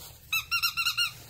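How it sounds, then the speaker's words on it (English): A squeaky dog toy from a subscription box being squeezed, giving five or six sharp, high squeaks in quick succession, close and loud against a quiet room. "That's an easy squeak."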